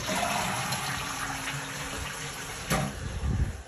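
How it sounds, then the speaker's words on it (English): Hot water rushing steadily from a tap in a Port Melbourne home, a constant close hiss of flowing water with a brief splash and clatter near the end. "And there's the hot water."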